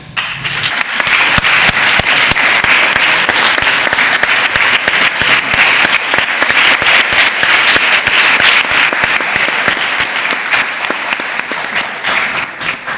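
A legislative chamber of delegates applauds throughout, dense, steady clapping from a large room sustained at full strength for the whole stretch with no voices.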